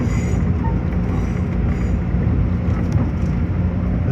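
An M7 commuter railcar runs along the line out of Jamaica, a steady low rumble and hum of wheels and motors heard from inside the car, loud and continuous with no talk.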